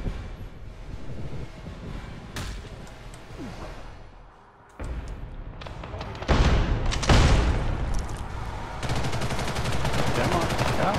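Gunfire and explosive bursts from the online shooter Ghost in the Shell: First Assault, with sniper shots in the mix, rattling loud and dense through most of the stretch, briefly dropping off midway before heavier volleys return.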